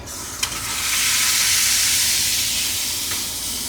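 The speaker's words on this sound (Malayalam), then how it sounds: "ഇപ്പം നമുക്ക് തൈര് ഒഴിച്ചു കൊടുക്കാം" Curd poured into a hot pan holding chili powder and turmeric bursts into loud, close sizzling, with a sharp tap at the start and then a broad hiss that swells and holds steady before easing slightly.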